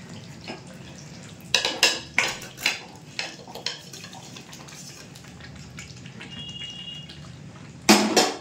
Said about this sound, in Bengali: এবার আমরা এর মধ্যে ফুলকপিগুলোকে দিয়ে দেব।